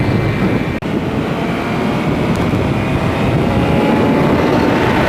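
A 2020 BMW S1000RR engine holds a high, steady roar at speed as it bounces off the rev limiter, with loud wind rush throughout and a brief cut early on.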